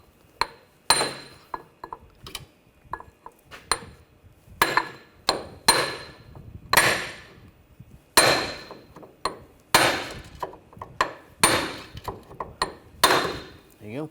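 A hammer taps a punch from the back side to knock out the front right CV axle on a 2000-2006 BMW X5 3.0L L6, giving sharp metallic clinks in irregular bursts. A voice murmurs faintly in the background.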